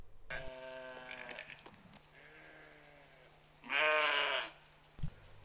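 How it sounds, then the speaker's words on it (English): A female nanny goat bleats several times, with a wavering call early on and a louder, harsher bleat near the end, heard close and clear with no talking. "A female goat is called a nanny goat."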